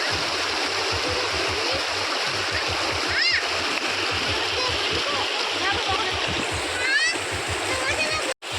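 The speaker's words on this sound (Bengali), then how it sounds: "সেই সুন্দর জলের স্রোত।" A flowing stream rushes and splashes steadily and loudly at a family picnic outdoors. Voices are heard over the constant water, which cuts off abruptly at the end.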